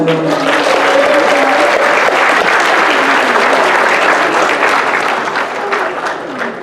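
Loud, sustained clapping from a crowd at an Arab American community Christmas party, dense and even throughout, with a few voices faintly audible at the start and a slight easing near the end.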